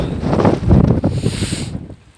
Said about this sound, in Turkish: Şu anda herhangi bir şey yok gibi görünüyor ama çok rüzgarlı hava. Yani aşırı rüzgar var.